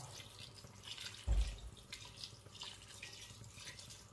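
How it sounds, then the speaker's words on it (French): Water is poured into a couscous pot as it cooks, a short close splash of running water around the middle over a faint, steady trickling background, with no voices. "On va rajouter un peu d'eau."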